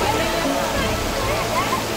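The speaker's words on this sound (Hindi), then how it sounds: "that is the waterfall" A monsoon waterfall at crowded Tamhini Ghat in Mulshi produces a dense, steady roar of rushing water, with the murmur of a crowd of voices mixed into the constant wash.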